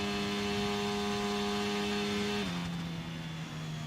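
A race car engine in the F1 22 video game holds a high, steady rev tone at the Spanish Grand Prix, then drops sharply in pitch as the car shifts and settles to a lower drone.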